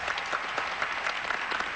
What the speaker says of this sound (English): They're applauding you there.